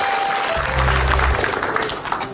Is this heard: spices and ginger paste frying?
no